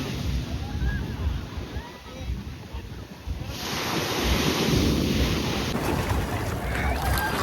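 Sea waves breaking at the shore, a steady roaring surf that builds in the second half, buffeted by wind noise on the microphone.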